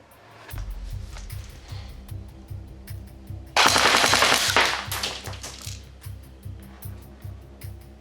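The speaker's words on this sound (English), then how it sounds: "Okay, so let's go full auto, and let's see what readings we get now." A CYMA CM049 SD6 airsoft MP5 fires on full auto: a rapid, even stream of sharp mechanical clacks at close range, with a louder, brighter burst partway through. No voices are heard.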